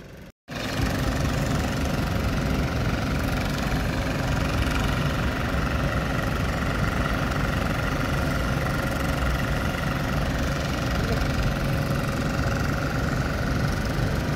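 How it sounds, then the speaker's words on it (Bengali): Fishing trawler engines idle in the harbour at Fahaheel, Kuwait, on the Arabian Sea: a loud, steady, close mechanical rumble with a knocking vibration, unbroken after a brief gap at the start. "আর এগুলো হচ্ছে সব মাছ ধরার ট্রলার।"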